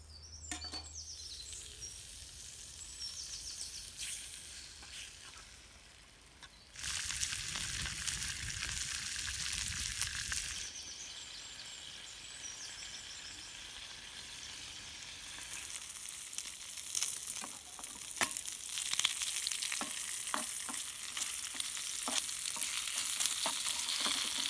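Tesco's finest bacon fries in a pan at a woodland wild camp, sizzling and spitting steadily with scattered crackles and spatula scrapes that grow louder toward the end, with no voices.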